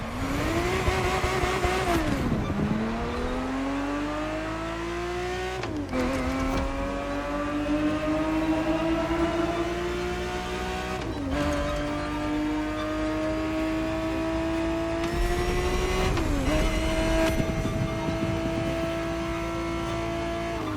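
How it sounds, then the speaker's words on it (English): A Ferrari 365 GTB4 engine in the racing game The Crew Motorfest, a 1970s Ferrari, revs loudly and steadily, climbing in pitch with several sharp upshifts and brief dips between gears. No voices are heard. "The Ferrari 365 GTB4 is the perfect vehicle for you to experience Ferrari racing as it felt back in the 70s"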